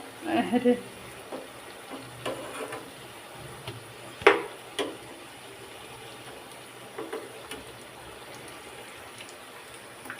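Potato donuts frying in hot oil, a soft steady sizzle with scattered light clatters and stirring knocks as they are turned, fairly quiet and close.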